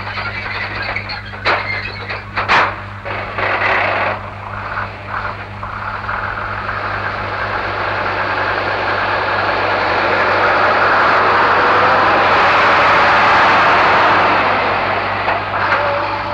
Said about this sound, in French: ils sont transportés sur remorque porte-chars Coder, attelés à un tracteur Berliet T615